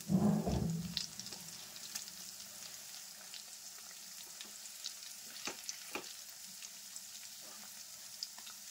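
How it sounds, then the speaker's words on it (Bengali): Lachha nimki fry gently in oil on low heat, a soft, even crackle with scattered faint pops after a short louder thump at the start. "এইভাবে কম আছে নিমকিগুলো ভেজে নিতে হবে"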